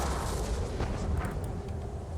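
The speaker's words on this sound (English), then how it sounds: "Carry on with the artillery fire around Sir Palin." Artillery rumbles in a Napoleonic battle video game at Eylau, a dull low boom with a muffled rolling tail under steady background noise, fairly quiet and alone.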